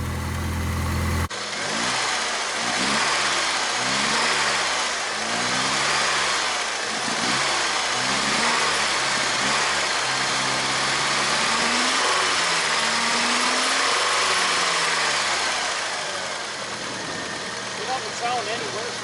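A 1989 Mustang engine idles steadily after its first start in 8 years, a close, even rumble that runs throughout with a voice talking over it.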